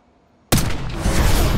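A single sniper rifle shot in Call of Duty: Black Ops 6 cracks out sharply after a near-silent lead-in, then a heavy, booming echo rolls on and lingers.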